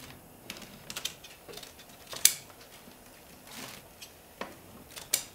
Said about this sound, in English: the caning can't be saved. So I'm going to cut it away. The old caning.